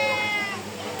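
A cat meows in a single drawn-out, tonal cry close by, with faint voices in the background.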